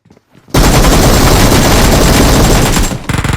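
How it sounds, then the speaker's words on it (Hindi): Rapid automatic gunfire from the BGMI shooter game, a loud dense burst of shots lasting over two seconds, then a few separate cracks. "यहाँ पे फिर अंधे में गोली चलाती हूँ और 2-3 नॉक हो जाते हैं।"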